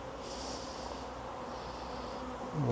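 Bees and a wasp inside a beehive, a dense continuous buzzing hum held at a steady level throughout, swelling slightly at the end.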